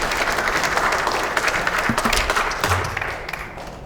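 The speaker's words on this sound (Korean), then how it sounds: "큰 박수로 맞이해 주십시오" Applause from a Democratic Party lawmakers' caucus meeting, dense steady clapping throughout, fairly close and loud, fading slightly toward the end with no talk over it.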